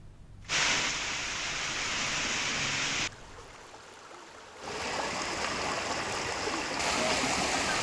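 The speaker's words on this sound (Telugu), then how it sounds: "భారీ వర్షాలకి వాగులు చెరువులు ఉధృతంగా ప్రవహిస్తున్నాయి" Rushing floodwater from streams swollen by heavy rain roars in a broad continuous wash, loud and steady, briefly dipping quieter before surging back.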